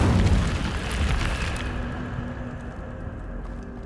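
The Incendio fire spell in Hogwarts Legacy goes off as a loud, close whooshing burst that fades into a lower rumble.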